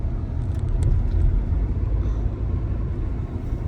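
An Audi pulling out on snow, its engine giving a steady low rumble close by, with faint crunching and scraping on top and no talk.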